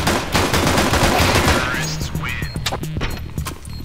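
Rapid bursts of gunfire in a shooter video game, loud and close at first, then thinning into scattered shots and clatter.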